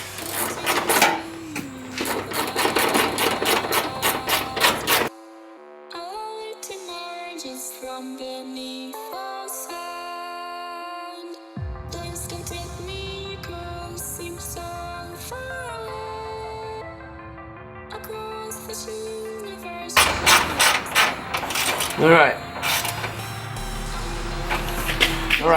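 A ratchet tightens headlight bolts on a 2000–2005 Dodge Neon, giving bursts of rapid, close clicking at the start and end with steady music playing in between.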